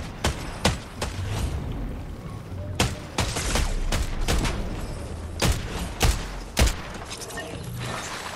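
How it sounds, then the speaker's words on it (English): Gunfire crackles in a Shatterline-style shooter video game, sharp shots coming in irregular bursts and single cracks over a busy background of game noise. "I just got shot at"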